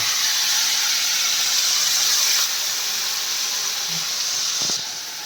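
Bengali spice paste for doi fish curry sizzles in a hot pan, giving a loud, steady hiss that continues throughout and eases off slightly at the end.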